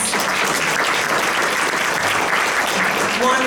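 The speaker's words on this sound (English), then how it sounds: "if we could just give our candidates another round of applause" Sustained applause from a candidates' forum audience fills the space, steady and loud throughout, with voices faintly mixed in beneath the clapping.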